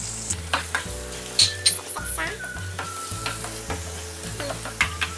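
Garlic and onion sautéing in a pan give a close, continuous sizzle, broken by a few stirring scrapes and light clinks of a utensil against the pan.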